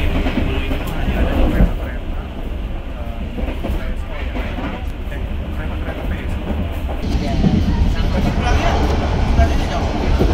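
KA Airlangga passenger train running between Bekasi and Cikarang, a loud continuous rumble of wheels and carriage noise throughout, with voices faintly under it.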